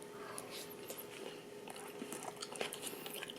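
Bites of home-cooked potato pizza being chewed, with a faint crunch to the crust; soft, close, repeated mouth sounds with no talking.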